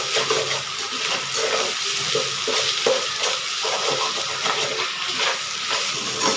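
Onions and tomatoes sautéing in a pan for a mushroom gravy, giving a continuous wet, bubbling sizzle with repeated rhythmic stirring scrapes, close and fairly loud, no voices.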